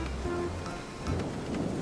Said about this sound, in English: That night, even as the storm howled outside, Tinku couldn't sleep.